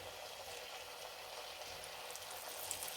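Kaliyadakka dough balls sit in hot frying oil, producing a soft, continuous, bubbling sizzle at a low, even level.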